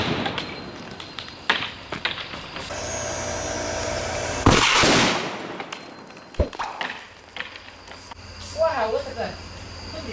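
Nuts and bolts tossed across car battery cables short out in a sudden bright electrical explosion, a loud crackling burst midway that decays into fizzing, with an excited voice talking before and after.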